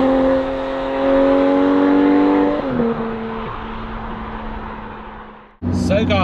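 A Porsche 911 GT3 (991.1) accelerates on the road, its engine note climbing through the revs before a gear change, then cruising. The sound dips near the end and comes back with a sharp burst of high-pitched noise.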